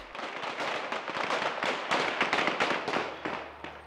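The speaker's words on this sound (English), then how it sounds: "Suddenly, Taliban fighters shoot live rounds in the air." Taliban fighters in Afghanistan fire live rounds into the air during a women's demonstration, a rapid, irregular string of sharp cracking shots, roughly a dozen in four seconds, with no speech.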